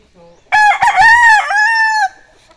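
A fighting cock in a backyard lets out one loud, close crow lasting about a second and a half, preceded by a faint low cluck.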